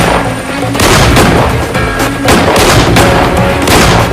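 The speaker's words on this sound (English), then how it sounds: "He then walks around the front of the vehicle and fires before fleeing" Loud gunfire from a police shooting near a vehicle: a dense series of sharp, booming shots in quick irregular succession, close and powerful throughout.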